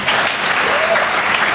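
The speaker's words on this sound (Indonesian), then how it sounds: "Tepuk tangan untuk tim." Steady, dense applause from an audience honouring a team, loud and continuous throughout with no voices standing out.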